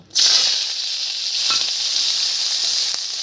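Onions dropped into hot oil burst into a loud, sudden hiss that settles into a steady, bright sizzle, with a faint stir or tap midway, close and alone.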